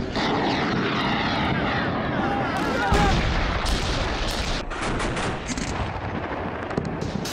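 Loud, dense booming of missile and artillery fire during Iranian naval exercises on the Persian Gulf coast, a sustained roar with sharp blasts and crackling bursts, aircraft engines droning underneath.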